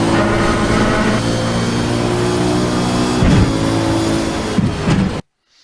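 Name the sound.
race car driving over the rumble strip at Road Atlanta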